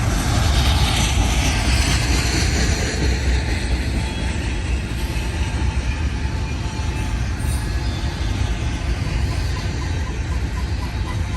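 A long freight train pulled by seven locomotives rolls past, a steady heavy rumble of engines and rail cars holding loud and constant throughout.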